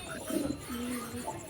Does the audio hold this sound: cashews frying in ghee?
no